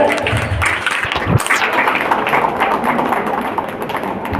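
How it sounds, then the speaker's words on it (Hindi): Audience applause at a college fresher day celebration, a dense steady patter of many hands clapping that carries on evenly, with a few thumps and sharper taps near the start. "प्लीज तालियां रुकनी नहीं चाहिए"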